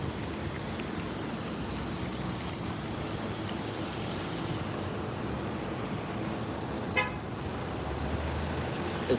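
A car horn honks at a stop sign, one short toot rising briefly out of a constant low rumble of road and vehicle noise nearby.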